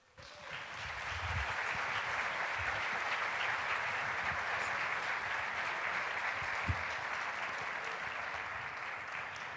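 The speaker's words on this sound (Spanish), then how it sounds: "¿Por qué aplauden si no entendieron?" A church congregation applauds after a sermon, steady sustained clapping from a large crowd lasting several seconds.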